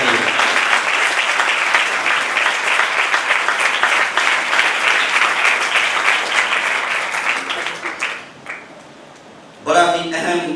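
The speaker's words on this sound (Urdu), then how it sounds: "زوردار تالیاں بجائیے۔" Church congregation applauding loudly during a service, a dense, roaring wash of clapping for about eight seconds that thins and drops away, followed by a brief burst of voices.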